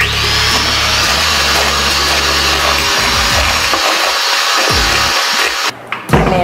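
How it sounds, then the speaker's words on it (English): An electric mixer whirs steadily through softened butter and confectioner's sugar, a loud continuous motor drone for about three seconds before it winds down into softer rubbing and clatter, with no speech. "I've got my mixer, and I'm gonna mix this up."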